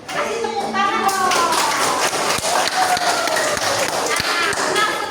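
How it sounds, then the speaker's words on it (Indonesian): A crowd of children and adults claps in a continuous, lively round of applause with occasional thumps, while voices and children's chatter carry on underneath. "Kasih tepuk tangan dong."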